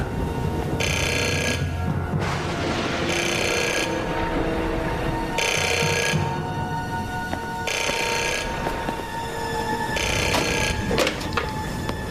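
A telephone rings in repeated double bursts, five or six loud rings spaced evenly over about twelve seconds above a steady background hum, with no voices.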